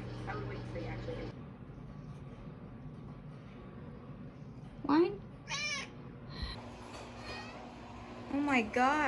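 A house cat meows repeatedly, first one cry midway, then several rising and falling meows close up near the end, with a voice talking at the start and a low hum in the background.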